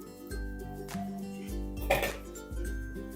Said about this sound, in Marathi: आणि हे सर्व साहित्य आता आपल्याला मिक्स करून घ्यायचं आहे